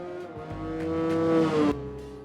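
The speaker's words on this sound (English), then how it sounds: "the roaring VTEC can now be heard because of the performance-based tuning" A tuned 2001 Honda Fit (Jazz) with a VTEC engine roars in Gran Turismo 4, its revs climbing in one short, loud surge before cutting off sharply.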